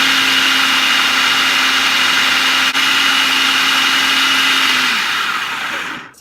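A blender runs steadily, whirring loud and close as it mixes black bean chocolate brownie batter, the motor holding one even tone for about five seconds before winding down and stopping.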